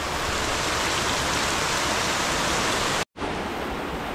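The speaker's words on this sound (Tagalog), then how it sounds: "Ang lakas ng ulan na to mga man." Heavy storm rain pours down in a dense, steady roar that stays loud and close throughout, broken once by a split-second cut before continuing, with no voices.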